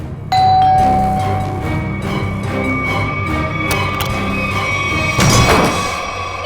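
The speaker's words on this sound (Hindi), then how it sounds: "कौन डोरबेल बजा रहा है इतनी रात गए?" A doorbell chimes late at night inside a home, ringing clearly and sustained, then a second burst of ringing with a thud near the end, with no talk over it.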